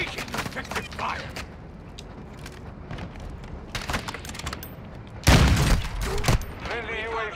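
Gunfire in the Call of Duty Warzone video game: scattered shots and a few louder bursts spread through the stretch, with the heaviest volley near the end, all under and between talking voices.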